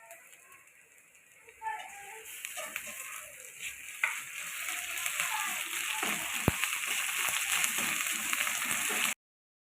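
Garlic paste drops into oil with browned onions, giving a soft sizzle that is quiet at first and swells into a steady, hissing fry for the rest of the stretch.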